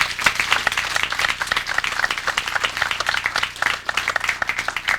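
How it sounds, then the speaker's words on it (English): An audience at a civic gathering honoring council members gives a round of applause, lively and fairly close, with distinct individual claps mixed into a steady mass of clapping lasting several seconds. "let's give them a round of applause and thank them"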